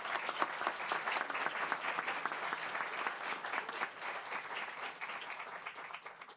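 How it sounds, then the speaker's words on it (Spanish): A seated audience at a book presentation at an electoral tribunal gives steady, dense applause that carries on throughout and fades slightly near the end. "Un aplauso, por favor."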